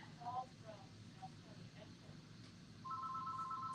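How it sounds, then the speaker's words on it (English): Electronic telephone ringtone starts near the end and continues steadily at moderate level, following a stretch of quieter room noise and faint tonal blips while someone assembles beads. "Hear that? The phone's ringing."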